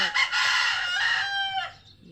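A rooster crows loudly nearby, one long drawn-out call that trails off into quiet.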